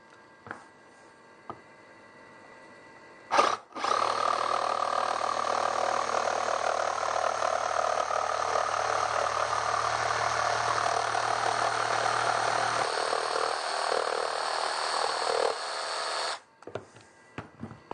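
Jigsaw cutting through a wooden board for a saddle stand, a steady buzzing whine running for about thirteen seconds after a brief start, then trailing off, close and loud with no talk.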